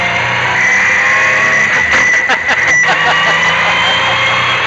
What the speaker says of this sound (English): it was almost impossible to overcome the sound of the V6